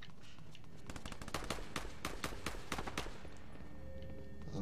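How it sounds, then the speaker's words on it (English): Gunfire in the video game Fortnite: a rapid series of sharp cracking shots in bursts, moderately loud but somewhat distant, over constant background game ambience with no talk. "I'm hearing gunfire."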